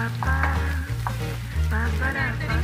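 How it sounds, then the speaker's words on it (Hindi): Ground tomatoes fry in a pan with a loud, close, continuous sizzle, accompanied by a steady low droning hum throughout. "अब हम टमाटरों को अच्छे से भूनने देंगे"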